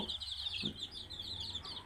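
Faint chicken clucking, with a soft cluck under a steady high-pitched background chatter.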